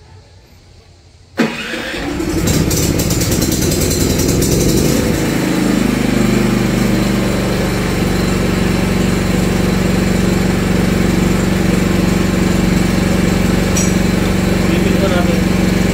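A Philking 10kVA diesel silent-type generator cranks and catches after a quiet moment, then settles into a loud, steady, close running drone with a low hum for the rest of the clip.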